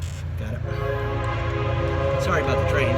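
A train rumbles past nearby, its horn blaring in a long, loud, sustained blast over the heavy rolling rumble, with speech briefly mixed in.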